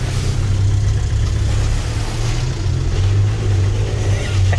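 A high-mileage VW Caddy van with 490,000 miles on it pulls away on the road, its engine droning steadily, low and loud, with a rumble that swells and eases as it accelerates through the gears.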